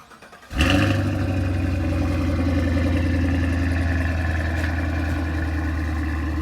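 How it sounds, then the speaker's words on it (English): A 2018 Cadillac CTS-V with stock exhaust cold-starts: a quiet lead-in, then the engine abruptly fires into a loud, deep, steady high idle that holds close and unbroken. "last cold start with stock exhaust."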